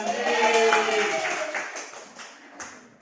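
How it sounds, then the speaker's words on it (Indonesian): Schoolchildren clapping together in an elementary-school math class: a brief burst of hand claps and taps that starts loud alongside a voice, then thins out into a few scattered claps before fading. "Tepuk tangan."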